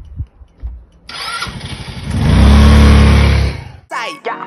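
A small scooter engine sputters, catches and revs up loudly for a moment, then cuts off, followed by brief mechanical clatter nearby.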